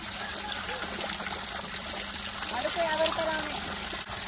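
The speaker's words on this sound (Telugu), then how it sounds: "కొండపై నుంచి 24 hours వస్తున్నాయంట నీళ్ళు" Steady trickling and splashing water runs continuously down a hillside at the Medaram Sammakka Saralamma Jatara, moderately close, with faint voices in the background.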